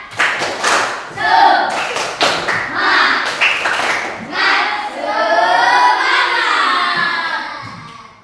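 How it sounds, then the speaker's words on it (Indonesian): A school class claps a rhythmic spirit chant led by the class leader, with sharp bursts of group clapping and children's chanting voices, then a sustained sung or shouted passage toward the end. "mari sama-sama kita tepuk semangat yang dibawakan oleh ketua kelas kita"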